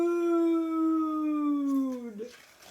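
A reader's voice imitates a dog howling: one long, sustained, mournful tone that slowly sinks in pitch and breaks off after about two seconds.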